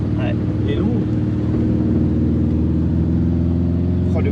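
The engine of a 1971 Volkswagen Beetle runs at a steady, loud idle with a low, even drone, and voices talk briefly over it.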